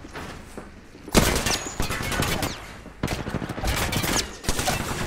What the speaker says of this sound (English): Oh my god. I'm taking shots.